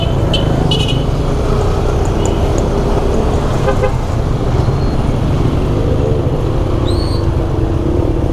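Busy road traffic passes close by under a constant low rumble of engines, broken by several short car horn toots, including a high, clear honk near the end.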